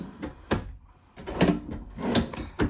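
A drawer in a 2025 Fuzion 442 toy hauler RV kitchen slides open and shut several times in quick succession, close up, with sharp knocks as it stops.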